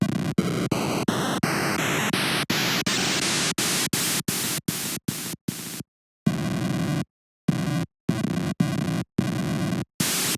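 FamiTracker noise channel notes stepping upward through the hexadecimal values, each a short burst of static hiss changing in pitch and texture, played one after another with brief gaps.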